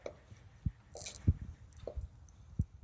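Rice bread batter is poured into a greased loaf pan, giving soft, wet plops and squishy slaps at irregular intervals, close up and fairly quiet, with no one speaking.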